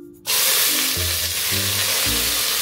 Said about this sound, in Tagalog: Gisahin yung tomato sauce.